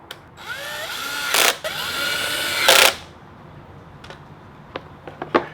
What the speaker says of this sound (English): Put these little tiny screws in right here.